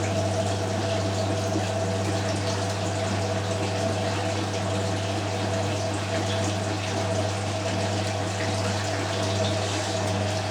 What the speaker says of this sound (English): So the Hotpoint is into distribution drain, Miele is still washing.